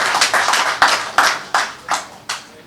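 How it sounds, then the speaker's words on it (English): A small audience at a customs service briefing claps: a sparse, uneven string of about seven sharp, close hand claps rather than a full crowd roar. "we need a round of applause for ourselves"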